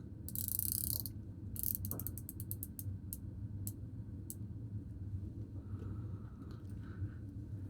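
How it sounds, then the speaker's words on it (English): An aluminum 60-click watch bezel insert is turned, giving a run of crisp, close, rapid ratcheting clicks in bursts with brief pauses, over a faint background hum. "Each click is just a definite, intentional, nice, solid click."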